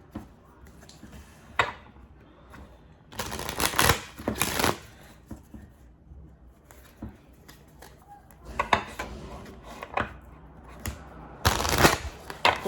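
A deck of cards is shuffled for a reading in several bursts of crisp riffling and flicking, some loud and close, with quieter handling and rustling between them.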